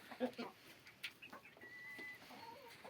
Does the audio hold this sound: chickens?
yes